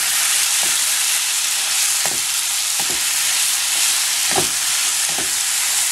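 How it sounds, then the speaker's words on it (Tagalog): Ground pork filling for menudo-flavored croquettes cooks in a pan with a constant loud sizzle, while a utensil scrapes and taps against the pan several times at uneven intervals. Nobody speaks. "Haluin natin."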